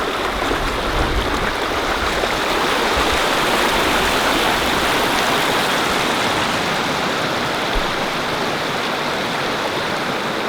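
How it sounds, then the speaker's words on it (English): Water from an underground spring rushing steadily near a river in a bird preserve, a loud, continuous broadband wash with no pauses and no voices. "This is an underground spring."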